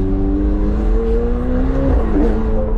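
A McLaren 720S in sport mode gives a loud, close, sustained engine drone whose tone climbs gradually as the revs rise, with tyre and road noise underneath.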